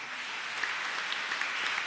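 A short burst of steady applause from a congregation at a Sunday morning Mass, even and fairly close, with a few sharper claps standing out.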